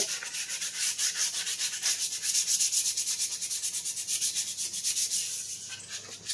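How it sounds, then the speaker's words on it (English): Fresh sandpaper rubs against a 3D-printed PLA Plus costume suit part in rapid, even back-and-forth strokes, a loud, close, continuous scratchy rasp. "I think we're doing some fresh sandpaper."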